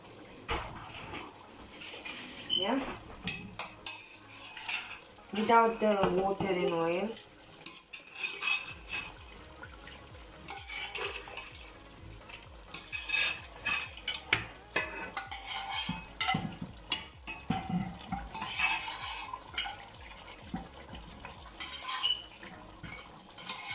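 Raw lamb pieces poured into a cooking pot with gravy and potatoes for akhni, followed by metal stirring, scraping and clattering against the pot, moderately close, with brief talk partway through.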